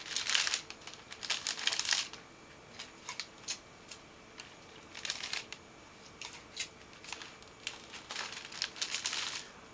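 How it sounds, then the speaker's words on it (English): Cellophane crinkles close-up as it is wrapped around the base of a hand-tied tulip bouquet, giving intermittent crisp bursts of crackling with brief quiet gaps between them and no voices. "when I add a piece of cellophane, I just gently go around just to hold that in place around the base"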